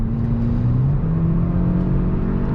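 The engine of a 2021 Hyundai Elantra N Line hums steadily from inside the car as it downshifts, its droning pitch stepping up in short jumps. The sound is close and moderately loud, with no talking.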